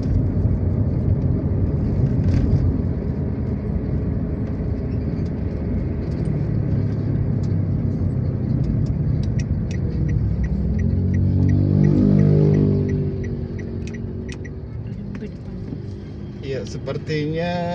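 Road traffic on the Trans-Sumatra East Highway between Palembang and Lampung at Pemulutan, Ogan Ilir, South Sumatra, heard as a continuous loud engine rumble. A heavy vehicle swells past near the twelve-second mark, and people talk over the noise.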